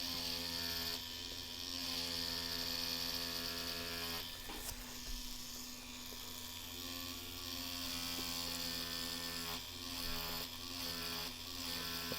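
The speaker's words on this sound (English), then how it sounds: "Stay Light tattoo machine, which is a pin style tattoo machine" A pin-style tattoo machine running at 5 volts gives a steady, dense electric buzz throughout, with a few brief dips and changes in tone as it is handled.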